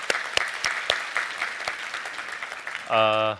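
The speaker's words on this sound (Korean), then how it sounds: "우리 하나님께 감사의 박수를 드리겠습니다" A church congregation claps in thanks during a Sunday worship service, a dense round of applause with sharp individual claps, ending as a loud sustained tone or organ chord rises at the close.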